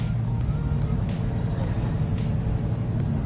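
A deep, rumbling 1971 Plymouth GTX engine drones steadily at close range while driving, a rough low-pitched growl with no breaks.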